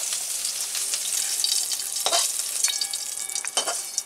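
Vegetable chops frying in oil in a pan, a bright continuous sizzle punctuated by scraping stirs and a few metallic clinks, close and moderately loud.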